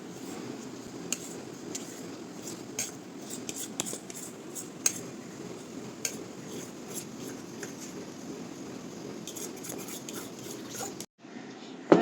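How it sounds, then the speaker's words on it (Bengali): Cake batter for an orange biscuit cake is poured and scraped into a bowl, with a spatula giving faint, continuous scraping and rubbing and a few small knocks against the bowl, and no talking. "এই যে এবার আমি দিয়ে দিচ্ছি ব্যাটারটাকে বাটির মধ্যে।"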